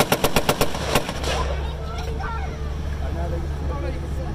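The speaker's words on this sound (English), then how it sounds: "Right, so that's the bow machine gun firing" A Browning .30 caliber bow machine gun on an armored vehicle at a military show fires a quick burst of about seven sharp, evenly spaced shots, followed by a steady rumbling engine idle.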